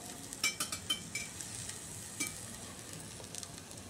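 An oiled chapati roasts on a hot pan, giving a quiet, steady sizzle. A quick cluster of light taps and scrapes comes near the start, then a few softer ones later; no voices.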